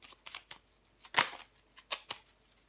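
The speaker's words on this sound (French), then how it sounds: "Allez, je prends encore une carte pour vous." Tarot cards are shuffled and drawn close up, a series of quick papery riffles and flicks with one sharp louder snap in the middle, then a few lighter taps, with no voices.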